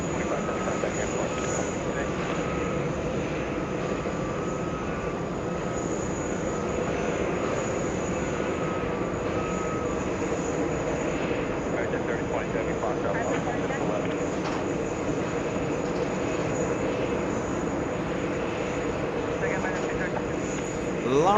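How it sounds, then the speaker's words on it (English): An airliner lands on runway 4 Left at JFK airport in New York, a continuous distant engine roar that holds steady throughout, with people talking over it. "The one landing on 4 left, the runway closest to us."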